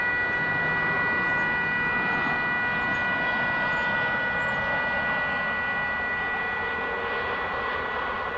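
A Polar DHL cargo plane landing at DFW Airport rumbles steadily in the distance, a broad roar with a sustained high engine whine, heard alone without talk.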